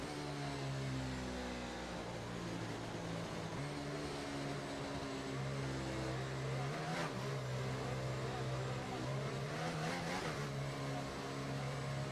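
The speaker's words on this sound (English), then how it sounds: "as all the cars take their positions on the grid" Race cars idle and rev on the starting grid of the British Grand Prix in F1 24, a continuous engine drone with low steady tones and occasional swells of revving, no voices.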